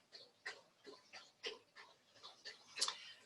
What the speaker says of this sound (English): don't mind the noise in the back. I got my dog behind me